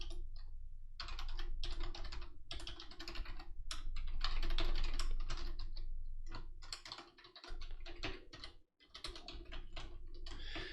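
Rapid keystrokes clatter on a computer keyboard in irregular bursts with short pauses, close and crisp, with no speech.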